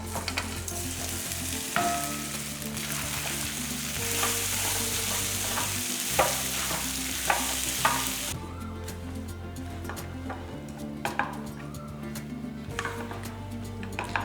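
Rice stirred into fried tamarind thokku in a pan for puliyodharai gives a steady close sizzle, with scraping and clacking spoon strokes recurring throughout.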